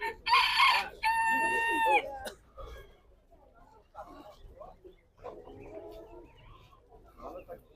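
Chickens at a livestock market squawk loudly in two long, drawn-out calls up close, then quieter clucking continues under people talking.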